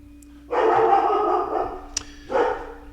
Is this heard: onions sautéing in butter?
no